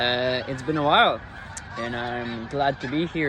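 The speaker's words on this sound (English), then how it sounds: "As you can see, there's a lot of bird right now." Geese honk loudly and repeatedly nearby in a rapid, overlapping series of nasal calls, while someone speaks briefly through the flock's noise.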